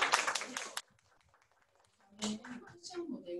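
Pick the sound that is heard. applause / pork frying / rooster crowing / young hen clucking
applause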